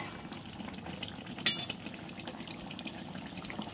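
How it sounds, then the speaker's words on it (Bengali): A pot of fish curry bubbles and simmers on the stove, a steady soft low churning of boiling liquid with a small clink partway through, fairly quiet and heard alone. "মাছের ঝোলটা দেখো ফুটছে।"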